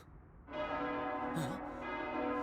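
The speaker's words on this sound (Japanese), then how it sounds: "鐘の音、一体どこから？" A temple-style bell in the Persona 3 film rings out in a sustained, resonant peal with long-ringing tones, fairly loud and close, preceded by a brief stretch of quiet low rumble.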